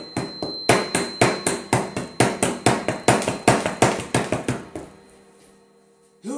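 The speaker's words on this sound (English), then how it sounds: "the sound of feet running down the hall" Feet running down a hallway: a fast, even run of roughly eighteen loud thudding footfalls across five seconds, then a sudden stop into near silence.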